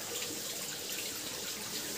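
Water pouring steadily into a bottle from a natural source, a continuous close rushing splash with no voices.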